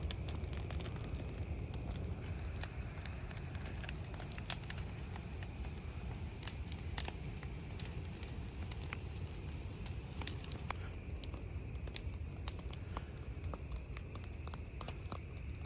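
Outdoor fire burning and spreading across vegetation, a steady low roar with scattered sharp crackles and pops throughout, continuous and fairly close, with no voices.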